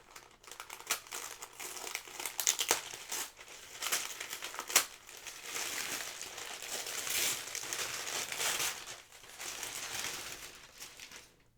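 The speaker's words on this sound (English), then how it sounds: "I should have unwrapped this before I start, so give me 1 second." Crinkly plastic wrapping being pulled and crumpled by hand, close and fairly quiet, in irregular rustling bursts that swell and fade with brief pauses.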